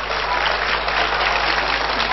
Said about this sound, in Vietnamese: các cổ động viên đều sẽ dành những tràng pháo tay rất nhiệt liệt trước phần thi về đích của bạn Hà Nhiên